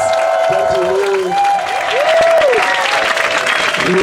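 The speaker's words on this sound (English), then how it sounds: "Let's give another round of applause to our panelists" Audience applause for a panel at a winter peace event, sustained clapping from a crowd under a speaking voice and some tonal sounds.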